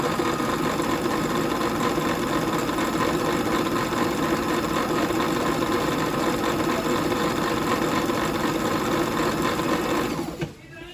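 A Singer Fitline Japanese sewing machine overlocks a fabric edge at stitch setting 4, running steadily and loudly close by for about ten seconds before stopping abruptly at the end.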